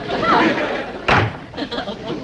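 A door slams once with a hard thump in a house, heard amid background voices and room noise.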